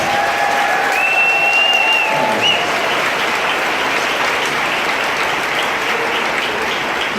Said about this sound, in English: we give them a round of applause, please?